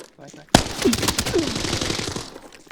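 Automatic gunfire in the shooter game Arena Breakout Infinite, a sharp first shot followed by a rapid burst of close, loud rounds, with someone talking over it.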